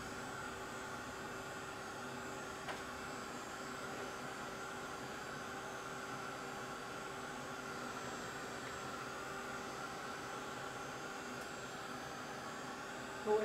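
An electric heat tool blows hot air to dry watercolor paint, a faint, steady whirring hum with an airy hiss that holds constant and unbroken throughout.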